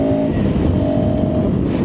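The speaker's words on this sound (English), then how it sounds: "When I'm revving it out, it is nice. Sounds nice." A 2026 KTM 390 Adventure 350cc motorcycle engine is revved hard, giving a steady, loud, close buzzing roar under riding wind noise, with no speech.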